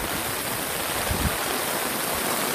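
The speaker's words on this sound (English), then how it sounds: "See, right here it is draining water." Rainwater rushing out of an alleyway after hours of torrential downpour, a steady close hiss of flowing water with a brief low thump near the middle, no talk.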